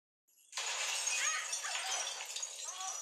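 Glass shatters in a film scene, a sudden bright crash that bursts in loud and then lingers as a dense spray of tinkling shards and debris for a few seconds.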